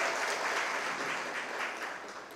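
An audience at a Tamil pattimandram speech event breaks into sustained applause, a broad wash of many hands clapping, fairly distant and gradually easing off toward the end.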